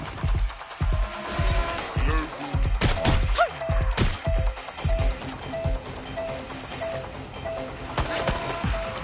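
Suppressive gunfire in a Watch Dogs Legion police shootout, loud rapid bursts of automatic fire and sharp cracks clustered in the first half, then sparser shots over a humming background.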